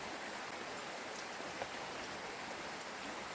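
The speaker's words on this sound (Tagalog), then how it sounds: "Naambon po ang ating panahon." Light rain drizzling outdoors while work goes on extending a nipa hut, a faint, steady hiss of fine drops on surfaces with a few soft isolated taps, continuous and distant.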